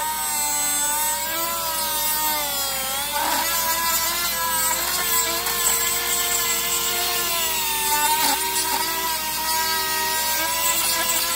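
A Dremel rotary tool enlarges a finger hole in a wooden walking stick flute, a steady high whine with layered harmonics that shifts pitch slightly as it grinds the wood, loud and continuous throughout.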